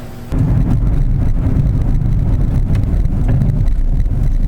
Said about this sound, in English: We'll take her for a ride and see if the noise went away